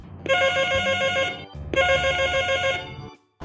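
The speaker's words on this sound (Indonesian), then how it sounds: "bersama Mei, tiba-tiba terdengar suara bunyi telepon" A telephone rings loudly and close by in two long, bright electronic bursts separated by a short pause, with no voices.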